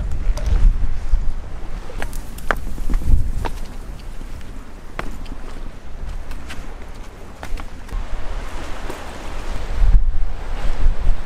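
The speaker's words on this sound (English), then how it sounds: "Flying out here and it's like really windy." Strong wind buffets the microphone outdoors near water, with rumbling gusts, a few sharp knocks and a low roar throughout.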